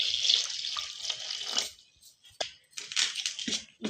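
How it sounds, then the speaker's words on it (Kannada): Water poured into a bowl of rava dosa batter mixed with curd, splashing in two bursts separated by a brief pause, close and fairly faint. "ಇವಾಗ ಸ್ವಲ್ಪ ನೀರು ಹಾಕೋತೀನಿ."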